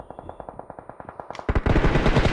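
Bursts of automatic gunfire from players in a jeep in PUBG Mobile, steady rapid shots at first, then swelling into a louder, denser volley toward the end.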